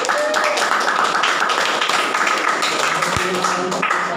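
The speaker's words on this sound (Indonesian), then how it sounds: "Tepuk tangan." Students in a classroom applauding a classmate: steady, dense clapping from many hands at an even level throughout, with a faint hum of voices underneath.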